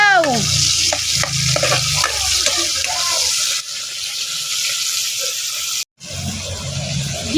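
Shrimp sautéed in a pan, crackling and sizzling loudly and steadily with scraping stirs and clinks of a utensil against the pan, with a brief break near the end before the sizzle resumes.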